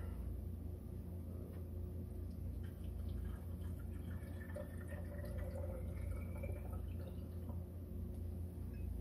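Water poured into the tank of a Chulux single-serve coffee maker, a steady low trickling fill with a rising gurgle under a constant rumbling background, no talking.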